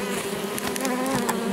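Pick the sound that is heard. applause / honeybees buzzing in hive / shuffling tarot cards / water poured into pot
honeybees buzzing in hive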